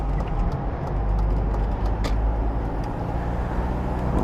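A 1999 BMW E36 318i Cabriolet with a 115 hp engine driving on the road, a steady loud low engine hum and rolling road rumble heard from inside the car, with no pauses.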